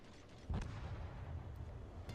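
A naval gun salvo fires in a ranked warship video game. One deep, heavy boom lands about half a second in and rumbles on under low, steady background noise, with no talking.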